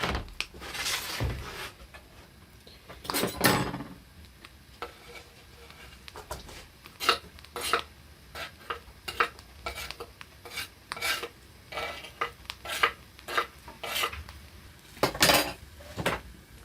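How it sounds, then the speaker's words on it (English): Onions and chilies cook in oil in a pan on a gas stove, with a soft sizzle under repeated metal scrapes and clinks of a spoon stirring against the pan. "First goes in the onions and chilies."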